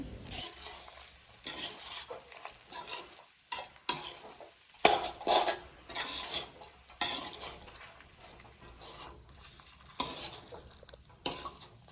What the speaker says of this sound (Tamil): இப்போ கருவேப்பிலை சாதத்தை நல்லா மிக்ஸ் பண்ணியாச்சு.